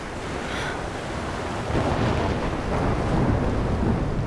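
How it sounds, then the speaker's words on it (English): Thunderstorm in the video game Life Is Strange: a broad, steady roar of rain and wind that swells into a deeper rumble of thunder partway through, loud and continuous with no voices. "The storm is coming."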